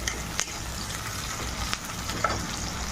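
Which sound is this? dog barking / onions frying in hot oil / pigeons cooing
onions frying in hot oil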